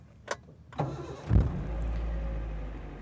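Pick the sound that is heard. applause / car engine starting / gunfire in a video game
car engine starting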